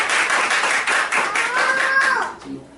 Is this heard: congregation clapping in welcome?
yes